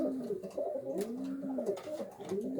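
Old Polish pigeon cooing in a loft, a low repeated moaning coo that rises and falls in a steady rhythm, fairly close and alone with no talking.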